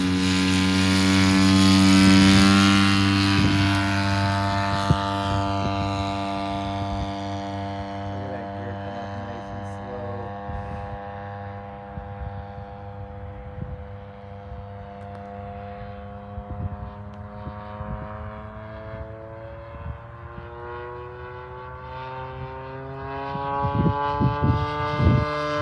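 A 1/4 scale RC Messerschmitt ME-109 model plane, freshly restored, runs up its engine in a driveway and takes off, a loud steady drone that gradually fades into the distance and then swells back near the end.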